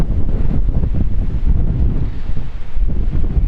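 Strong gusting wind buffets the microphone outdoors during a drone flight test, a loud, continuous low roar with no voices.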